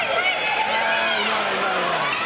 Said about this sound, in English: People screaming for a replay.